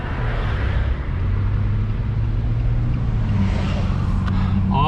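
A car pulling out onto a road in hurricane-damaged downtown Fort Myers, a steady low engine rumble with continuous road noise throughout and a slight rise toward the end.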